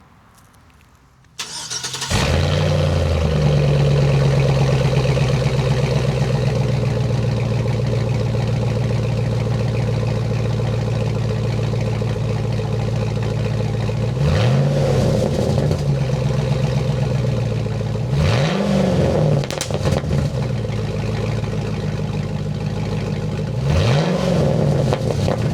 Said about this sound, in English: here's a quickly mocked up straight piece in there so we can hear what it sounds like straight piped